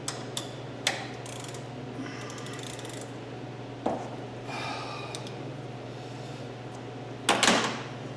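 A socket ratchet with a 13 mm socket on an adapter works a brake hose fitting clamped in a vise on a 1967 Mustang, giving intermittent clicking and mechanical clunks at close range over a steady hum.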